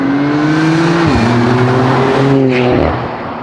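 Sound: Porsche Cayenne GTS V6 440 hp engine sound

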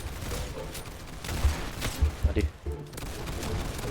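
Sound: gunfire shots in the Roblox video game

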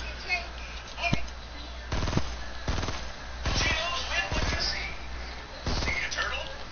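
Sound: gunfire in the video game Fortnite

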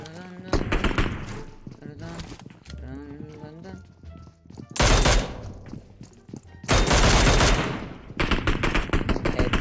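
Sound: gunfire in the video game PUBG Mobile

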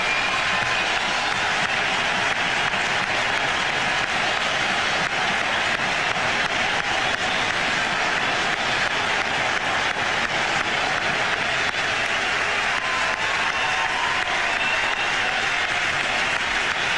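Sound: cricket crowd ovation for Sachin Tendulkar's century

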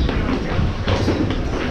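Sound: local train

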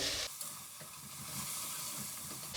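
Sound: ground beef frying in olive oil

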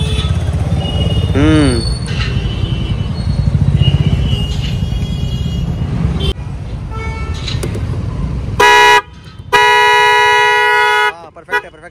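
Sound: two vehicle horns honking together

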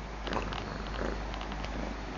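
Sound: cat purring

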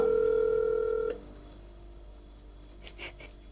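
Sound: phone call dialing

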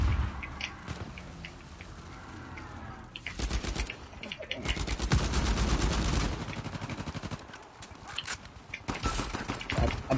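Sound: gunfire from a video game (Inception map)

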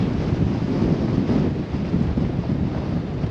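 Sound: strong wind and sandstorm

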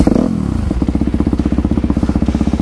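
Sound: motorcycle aftermarket exhaust

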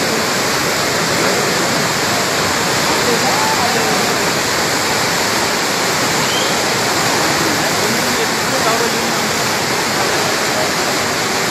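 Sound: flooded Myagdi river rushing water

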